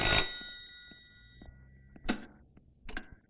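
A telephone bell rings loudly at the start, then its tone trails away, followed by two further shorter ring bursts at an even spacing, with no talk over them.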